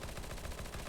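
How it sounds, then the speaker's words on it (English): A flashbang grenade going off in the video game CS:GO, heard as a dense, loud burst of noise with repeated rapid gunfire-like pulses filling the full second, with no voice over it. "Oh, that's flashbang."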